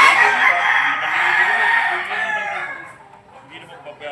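Rooster crowing close and loud in one long drawn-out call that trails off into softer clucking, with voices faintly around it.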